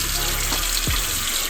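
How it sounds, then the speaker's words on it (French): Steady running tap water splashing into a sink while a face is rinsed, a constant close rush with small splashes and no voices. "Et ensuite je viens rincer mon visage."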